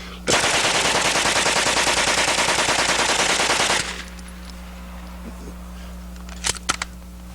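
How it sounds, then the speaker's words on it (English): A 9mm submachine gun fires one long, continuous full-auto burst of rapid shots for about three and a half seconds. The loud burst then stops abruptly, leaving a quiet background with a couple of faint clicks. "Friends, this is a 9mm. This is a true submachine gun."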